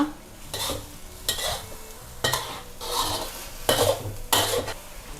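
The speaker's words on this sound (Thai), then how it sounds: "ใส่ต้นหอมลงไปค่ะ ผัดอีกครั้งให้เข้ากันดูจนต้นหอมสุกนะคะ" Beef balls stir-fried with young chilies and spring onion, a utensil scraping and stirring in a pan in repeated strokes over a steady close sizzle.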